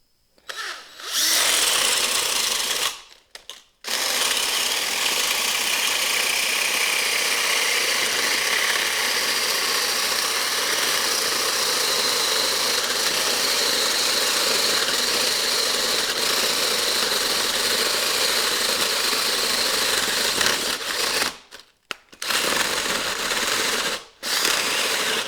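A DeWalt cordless drill bores through holes in one long, steady, loud whine that runs nearly unbroken. Short gaps near the start and near the end mark pauses between holes.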